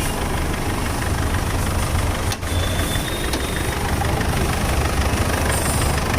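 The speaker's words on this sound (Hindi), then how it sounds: "ये है इंजन का साउंड, बिल्कुल शानदार, लाजवाब, जबरदस्त," A Ford Endeavour SUV engine idles with a steady, loud mechanical rumble and hiss, continuous and close, with no talking.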